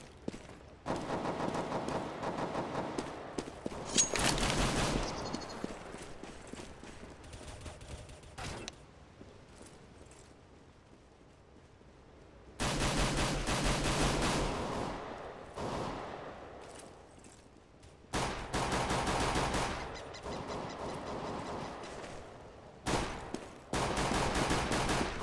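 Desert Eagle pistol fire in CS:GO, with several bursts of sharp, loud shots in quick succession separated by quieter gaps of game ambience.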